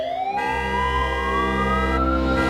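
An ambulance siren wails loud and close, a rising electronic tone over a deep rumbling engine, sounding continuously with no talk.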